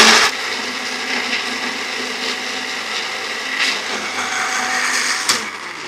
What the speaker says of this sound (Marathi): वाटण करण्यासाठी मला मदत करत आहे अगारोचा हा रिगल पर्सनल ब्लेंडर